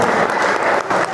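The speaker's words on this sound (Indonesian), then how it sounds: "Tepuk tangan dulu" Audience applause at an Indonesian Islamic sermon, a dense, steady wash of clapping filling the whole moment, close and loud with no voices on top.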